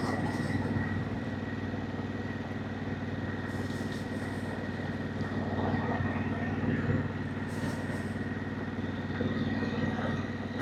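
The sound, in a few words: Harley-Davidson Pan America motorcycle riding on gravel road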